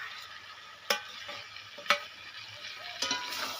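Onion, ginger and garlic paste frying for a mutton curry, a steady soft sizzle with a few sharp clinks of a stirring spoon against the pan.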